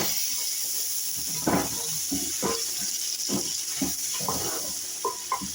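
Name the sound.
spices frying and sizzling in a pan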